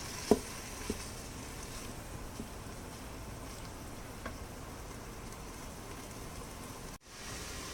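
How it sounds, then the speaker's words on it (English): A low, steady sizzle and patter of ground beef frying in an electric pressure cooker pot fills the clip, faint and even, with a couple of small knocks near the start. "while our ground chuck is frying up"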